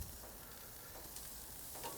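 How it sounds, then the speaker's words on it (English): Kosher skirt steaks sizzle on a hot, clean grill, giving a faint, steady crackling hiss that holds evenly throughout without any voices. "You can hear the sizzle, you can see the smoke."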